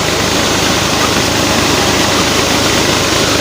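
A tractor engine runs loud and close with a steady, rumbling drone and a throbbing mechanical texture, continuous throughout without pauses.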